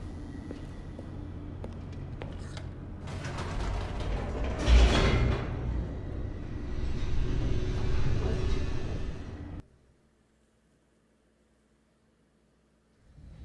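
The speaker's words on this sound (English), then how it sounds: "The elevator raced downward, plummeting towards an unknown fate." A game elevator in The Stanley Parable descends with a loud mechanical rumble, creaking and grinding gears and a rising whoosh of motion, then cuts off abruptly into near silence.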